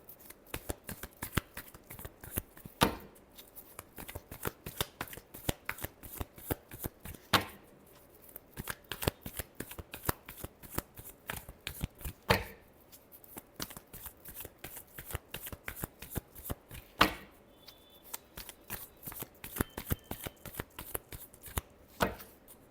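Tarot deck shuffled by hand in quick, crisp riffling bursts that repeat steadily with short pauses, close and fairly quiet, with no voices.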